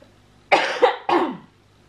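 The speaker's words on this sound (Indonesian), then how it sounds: "mama batuk." Two sharp coughs close to the microphone, the first with a quick double burst, followed by quiet.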